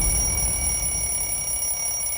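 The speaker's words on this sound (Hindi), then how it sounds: "11 बजे उठने के लिए भी अलार्म लगाना पड़ता है इसे" An alarm clock rings continuously and loudly at close range, a steady high electronic tone over a low rumble, with no voices.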